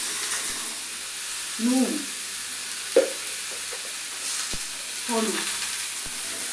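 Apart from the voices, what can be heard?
potatoes and papaya frying in a pan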